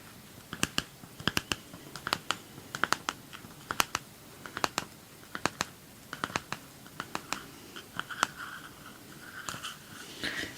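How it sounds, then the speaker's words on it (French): In a close, quiet ASMR session, someone draws a card from a tarot oracle deck. Crisp, irregular card taps and flicks come in small clusters, with soft papery rustling between them. "Je vais te tirer une dernière carte"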